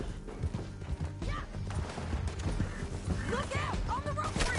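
Horse hooves clatter in a steady gallop amid whinnies in Red Dead Redemption 2, with a busy mix of voices and action noise over a constant rumble.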